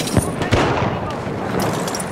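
Gunfire in the video game Battlefield 1 during a capture-the-flag match, two sharp close shots followed by a dense rumble of distant battle noise, with a player talking over it.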